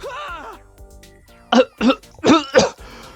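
A video game character coughs and wheezes in four sharp, loud bursts, each a harsh hacking cough close up, after a short stretch of strained voiced breathing and quiet pauses.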